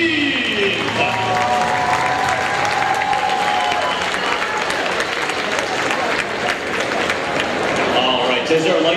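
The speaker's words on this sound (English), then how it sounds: "one last round of applause for your Riot 19 team" A big crowd applauding a robotics team at a robotics competition opening ceremony, loud sustained clapping and cheering that holds steady throughout, with a voice over the noise.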